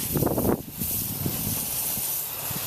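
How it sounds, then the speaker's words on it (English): A steady, fairly loud hiss of water spraying over a Honda Odyssey engine bay, continuous throughout, with a brief burst of rougher splashing at the start. "So we'll just start out with a nice easy spray."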